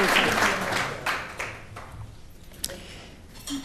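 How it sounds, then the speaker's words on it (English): Audience applause at an annual dinner, a loud burst of clapping from a roomful of guests that gradually fades to scattered claps. "give you all a hand of applause"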